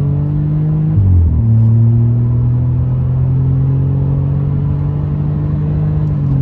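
Inside a Seat Ibiza FR on the move, the engine drones loud and steady with road rumble beneath, its pitch dipping briefly near the second second as the gear changes before settling into an even hum.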